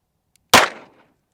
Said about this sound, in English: I do want to shoot the first rounds and feel the double action